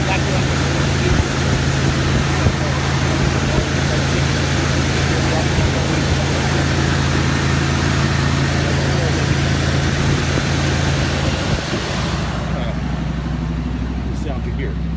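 A 1969 Buick Riviera engine idles after a cold start with the choke on, a steady loud rumble and hum running throughout before it drops away near the end, with someone talking over it.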